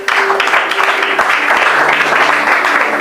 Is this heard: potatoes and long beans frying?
no